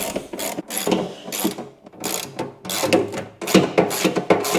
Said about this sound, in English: we're gonna guide them in for the first time gently with our socket wrench